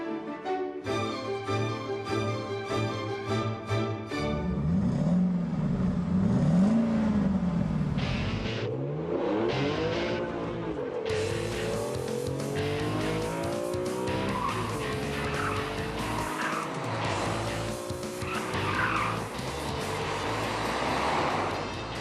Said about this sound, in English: That was the moose test, or the elk test, whichever you prefer.